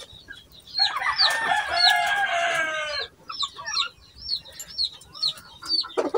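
Chickens from a backyard flock, including a rooster, clucking and crowing nearby, with a long loud crow early on followed by scattered clucks and calls; no talking.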